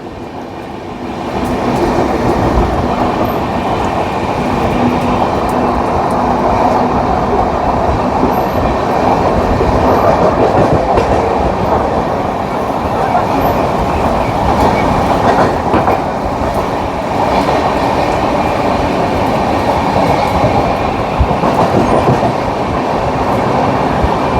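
The Jharkhand Sampark Kranti passenger train runs at speed, a steady close rolling roar with rail clatter and rhythmic wheel noise that holds through the whole stretch without talk.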